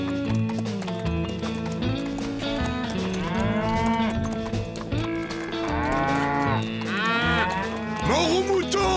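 A cow moos in long, drawn-out calls over a busy mix of music and hoofbeats, with horse-like sounds mixed in.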